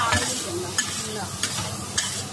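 Stir-frying in a wok at home, with a steady sizzle of frying food and the scrape and clatter of a spatula against the pan, several sharp metallic strikes spaced through the stir.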